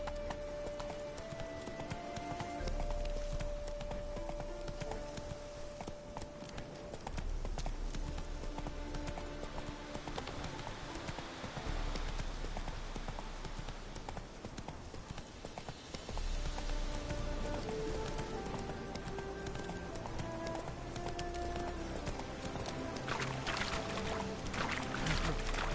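A horse running in The Witcher 3 on a loud game soundtrack, with steady hoofbeat clip-clop mixed under sustained music and ambient layers throughout.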